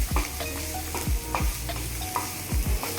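Food frying in a pan until tender and brown, with a steady sizzle beneath repeated scraping stirs of a utensil against the pan, loud and close, with no talking.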